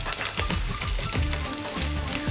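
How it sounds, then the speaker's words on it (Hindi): Chicken pieces frying in a pan for a chicken kachori filling, a close, loud and steady sizzle with crackling bursts and stirring clatter, with no talk over it. "इसमें इसको ऐसे ही फ्राई करेंगे तकरीबन 2 से 3 मिनट"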